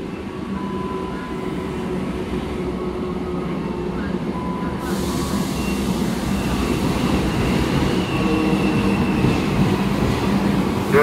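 A commuter train pulls into a busy Jakarta station bound for Bekasi, Tambun and Cikarang, its steady heavy rumble swelling louder and nearer, with a faint public-address voice underneath.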